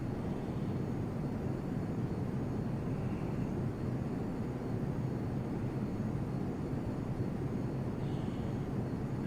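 A simulated airplane engine in the Prepar3D v2 flight simulator, flying over New York City, gives a faint, steady, low drone that runs unbroken throughout with no voices.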